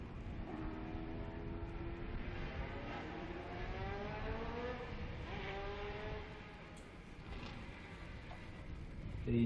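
A 1976 Porsche 935 race car, number 64, roars past on a circuit during qualifying at a classic racing event, a loud sustained engine note with rising and falling pitch sweeps as it passes, then fading.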